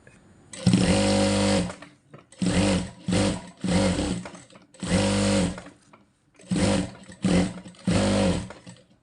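An electric sewing machine stitches fabric in bursts, loud close mechanical whirring runs of one to two seconds separated by short pauses, with no talking over it.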